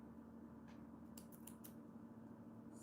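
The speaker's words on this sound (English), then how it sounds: "I'm cutting some excess thread off" Small scissors snip excess thread from the inside of a handmade dress, a few short, crisp clicks in a quick cluster over a steady low room hum, close and quiet.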